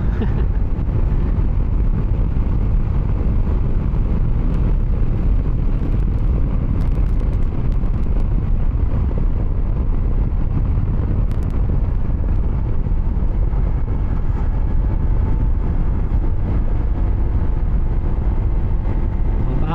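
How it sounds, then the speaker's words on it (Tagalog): Strong, steady wind roar buffeting the microphone while riding a Honda motorcycle at speed, a dense low rumble that masks everything else throughout with no clear voice. "Lakas ng hangin, sana narinig nyo ako."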